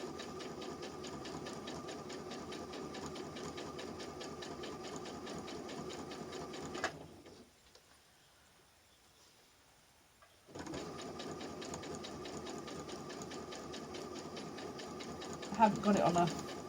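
A sewing machine runs at a moderate steady speed, stitching a lampshade or bolster. It whirs and rattles evenly for several seconds, stops for about three seconds, then starts again, with a faint voice around it.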